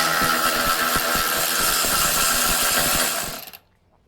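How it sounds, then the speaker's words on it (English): A Milwaukee power tool spins hard for about three seconds while backing out an exhaust bolt on a Royal Alloy GT150 scooter during a PM88 exhaust install, loud and close, then cuts off abruptly. "put my little Milwaukee right here,"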